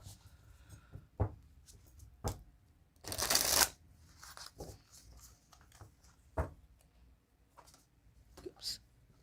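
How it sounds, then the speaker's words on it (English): A deck of tarot cards is riffled in one dense burst of fluttering near the middle, set among scattered soft taps and card handling, quiet and close, with a little low speech. "let's pull some cards on these and then we're going to get further into the reading"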